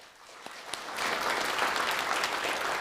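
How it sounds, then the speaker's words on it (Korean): A church congregation at a Sunday service begins clapping with a few scattered claps, then swells into full, steady applause that holds to the end. "인사하실 때 큰 박수 해주시기 바랍니다"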